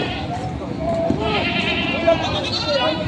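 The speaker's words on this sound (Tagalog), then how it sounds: "Dalawang dumalagang kambing." Goats bleat at a livestock market in Padre Garcia, Batangas, several calls rising over steady crowd chatter and talk nearby.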